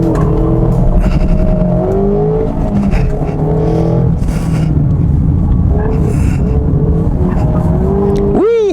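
A Mazda Miata run flat out across a hill, its engine revving hard and steady up close with shifting pitch and a brief tire squeal near the end.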